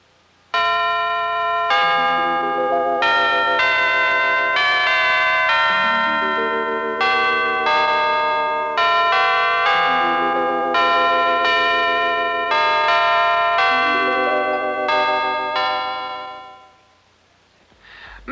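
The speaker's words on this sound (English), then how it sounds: "It is merely a series of hollow-tuned metal tubes hung on a frame, and is called the tubular bells." Tubular bells, hollow tuned metal tubes hung on a frame, are struck near the top with mallets, ringing out as a clear, sustained, overlapping melody that rises and falls before fading away.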